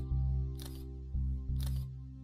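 Two camera shutter clicks from taking photos in the game Take on Mars, each a crisp snap with a brief hiss, about a second apart, over a steady low droning hum.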